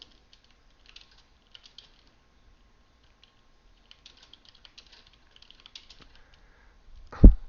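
Typing on a computer keyboard while a game runs: sparse, faint keystroke clicks come in small bursts across a quiet room, ending with one loud, close thump.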